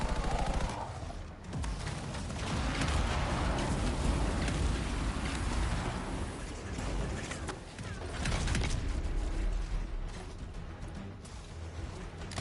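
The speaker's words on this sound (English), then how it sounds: "Oh, this stupid laser attack. That hurt a lot." A laser attack in the video game Anthem strikes the player, heard as a loud, sustained crackling barrage with rapid bursts that fade briefly and then resume over dense game noise.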